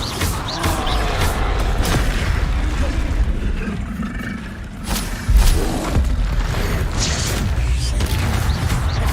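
Bombarda blasting spell explosions in Hogwarts Legacy, loud booming blasts and crashes over a rumbling battle din, with a voice briefly speaking.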